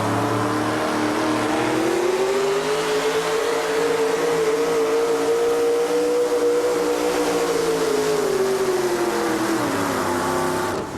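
A pulling truck runs at a 2007 truck and tractor pulling competition in Hillsboro, Wisconsin, its engine roaring loud and continuous, with the pitch rising slightly and then holding steady under full load for the whole stretch.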